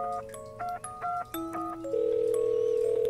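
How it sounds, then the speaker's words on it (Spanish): A telephone number is dialed on a keypad: a quick run of short, distinct beeps at varying pitches, then a steady sustained tone, clear and fairly quiet. "marca el teléfono de su novia"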